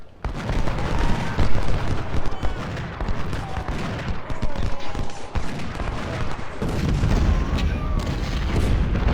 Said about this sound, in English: So what they're firing right now is canister. As you can see, it's a single shot going out and then it explodes.